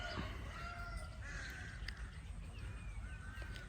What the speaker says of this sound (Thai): ได้ยินเสียงนกเสียงกา